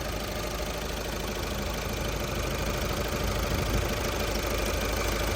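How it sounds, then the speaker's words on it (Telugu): A Volkswagen Polo Highline engine idles steadily up close, a constant mechanical hum and rattle with a faint knocking texture, running alone with no voices throughout. "ఇదిగోండి ఇంజన్"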